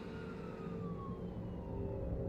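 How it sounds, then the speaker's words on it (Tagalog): An ambulance siren wails faintly in the distance at night, a single falling tone drifting over a low rumble of road traffic. "Gabi-gabi akong nakaririnig ng sirena ng ambulansya"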